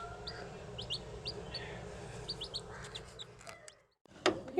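Newly hatched White Sussex chicks on a homestead give repeated high, thin peeps in short bursts, faint and fairly close over a low background hum, ending with a louder brief rustle.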